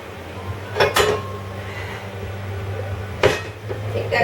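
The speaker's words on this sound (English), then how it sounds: "I'm going to get my pan ready." A pan is handled in a kitchen, giving two sharp metallic clanks about a second apart, then another clank later over a low background hum.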